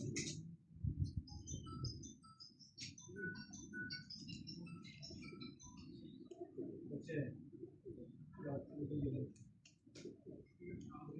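Pigeons at a pigeon club in Xirdalan coo in soft, repeated low calls. Higher chirps are scattered over them, and someone talks throughout.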